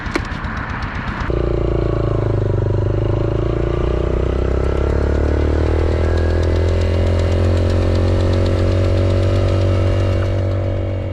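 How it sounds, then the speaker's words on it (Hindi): A motorcycle engine drones loud and unbroken while riding out from Skardu, its steady hum rising slightly in pitch after a brief rougher noise at the start. "और आज का ये सफ़र है भी मेरा मोटरसाइकिल पे।"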